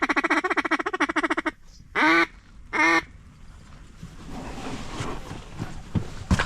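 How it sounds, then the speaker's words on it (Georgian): Ducks at Jandari lake during a hunt: a rapid run of close quacks, then two drawn-out calls, followed by softer rustling and faint noise. "იხვები არიან აქეთ ხარეს, ჩემ ხარეს. 4 ფრთა არის."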